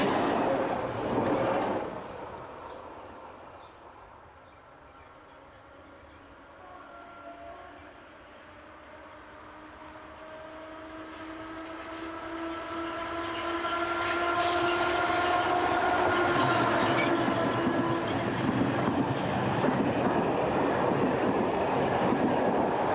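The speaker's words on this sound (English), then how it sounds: "heading north is Z7300 electric unit number 17345, with a local service for Tarbes" A Z7300 electric multiple unit on a northbound local service to Tarbes passes through Lourdes, its rumble swelling from a distance to a loud, close roar with a steady tonal hum and rising hiss.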